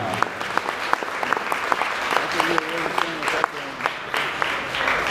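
Wedding guests applaud the caterers at a reception: a sustained round of crowd clapping, fairly close, with voices and a few shouts or cheers rising through it.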